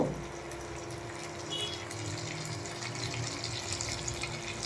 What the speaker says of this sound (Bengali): অল্প একটু আমি জল দিয়ে দেবো, মশলাটা যেন পুড়ে না যায়